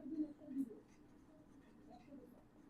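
A marker or chalk scratches across a board in short strokes, faint and close, with soft scraping bursts and quiet pauses between them.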